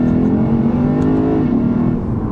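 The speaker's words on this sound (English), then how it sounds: "you listen to that and it sounds so nice. I love this engine." A deep V8 engine of a 2022 Lexus RC F Fuji Speedway Edition roars loudly and steadily on downshifts, its pitch sliding slightly down, close and without voices.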